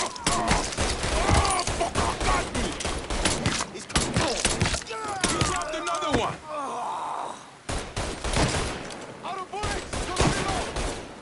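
Gunfire in the video game Mafia 3: loud, close bursts of rapid shots and sharp cracks fill the scene while a voice shouts urgently over the shooting, with a brief lull near the middle before more firing.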